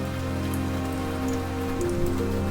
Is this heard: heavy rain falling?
yes